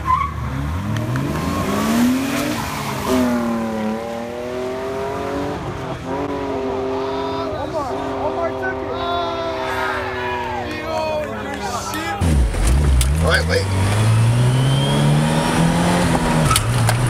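A race car engine roars and revs at high pitch, climbing through gears with tyre squeal and skidding and a crowd in the background, loud and continuous.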